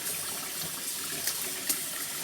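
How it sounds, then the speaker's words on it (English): Tap water runs into a basin to soak a finished knitting project before blocking, a steady, close rushing and splashing flow with a couple of small splashes. "So now I have enough water that it can submerge"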